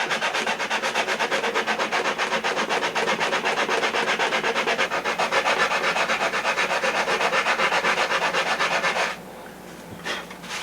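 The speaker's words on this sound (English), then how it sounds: "just grab some sandpaper and knock it down real quick. Got my sanding block, you can see 80 grit" Steady, rhythmic scratching of an 80-grit sanding block rubbed back and forth over a model airplane wing, close and continuous, stopping near the end.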